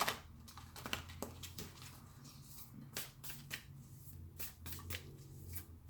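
Tarot cards being shuffled up close, a run of crisp riffling bursts and flicks repeating steadily through the clip with no talking.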